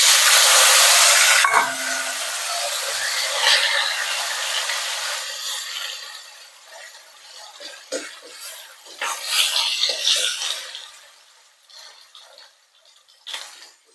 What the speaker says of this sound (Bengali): আমি একটু পেঁয়াজটাকে হালকা করে লাল করে ভেজে নেবো।